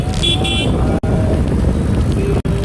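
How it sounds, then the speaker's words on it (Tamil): Busy road traffic at a signal, heard from a bicycle: a loud steady engine and road roar with high, repeated horn toots early on, two brief dropouts in the sound, and a voice talking faintly beneath. "பார்த்தீங்கன்னா சிக்னலு டிராஃபிக் பயங்கரமாக இருக்குது."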